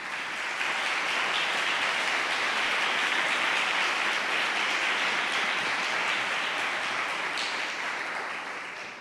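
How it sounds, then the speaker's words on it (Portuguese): A church congregation applauds during a sermon, a dense, sustained roar of many hands clapping at once, steady for several seconds before tapering, with no speech over it. "Dê uma salva de palmas para Jesus."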